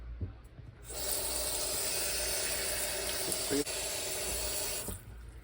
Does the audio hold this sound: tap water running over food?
yes